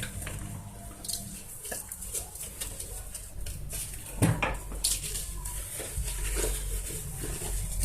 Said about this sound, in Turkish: Şimdi bulaşıklarımı yıkayayım.